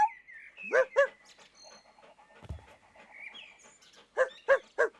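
Several sharp dog barks come in close bursts, a pair early on and a quick run of three at the end, with quieter whines and rustling between.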